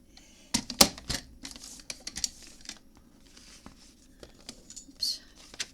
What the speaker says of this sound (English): let me just put it in my trimmer